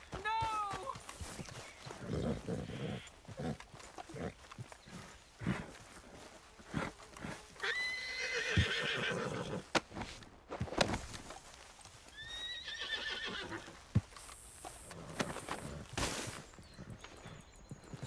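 Horse in Red Dead Redemption 2, set in the game's open country, whinnying several times with rising-falling calls, while hooves clop and thud close by and a voice shouts over it.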